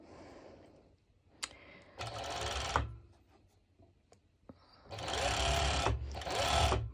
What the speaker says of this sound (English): Of course I do have an overlocker, and it's actually an industrial one